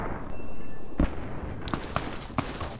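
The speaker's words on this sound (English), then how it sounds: "I swear, Bandit, I'm not dealing with gunshots" Gunfire in the video game Fallout New Vegas: a few sharp, separate shots spaced over a couple of seconds, loud and close over a low background hum.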